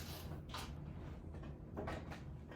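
A wooden quilt chest is opened at an antique booth, giving a few soft creaks and knocks of the lid over faint room tone.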